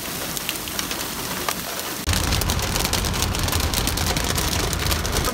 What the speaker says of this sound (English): Currently getting hammered by hail right now.